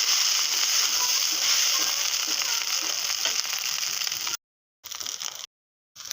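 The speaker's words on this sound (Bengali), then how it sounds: "2 মিনিট ভাতটা আমি ভেজে নেব" Cooked rice frying in a pan for South Indian lemon rice, a steady loud sizzle and crackle running continuously and close, then cutting out in brief gaps near the end, with no talking.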